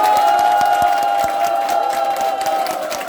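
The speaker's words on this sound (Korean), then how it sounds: "다시 한번 박수로 여러분 힘차게 응원해 주시기 바랍니다" A crowd claps and cheers at a political party rally held as a press event for a district mayoral candidate. Sharp claps sound close over a loud, sustained tone and general crowd noise.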